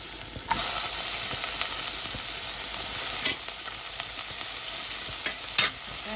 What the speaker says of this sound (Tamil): அதுக்கு இந்த வெஜிடபிள் எல்லாத்தையும் போட்டு வதக்கும்